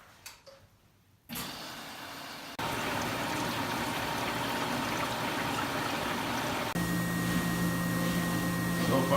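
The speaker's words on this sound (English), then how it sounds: "I heard some draining going out the back." A Whirlpool Duet HT front-load washer under repair starts up and drains water, its pump rising in stages into a steady rushing whir, then joined by a low motor hum.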